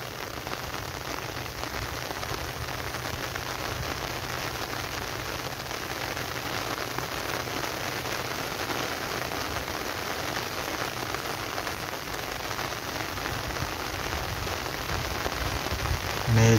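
Steady rain falls over rice paddies in a Konkan village during the planting season, a dense, even hiss of drops on wet fields that runs without a break and with no voices.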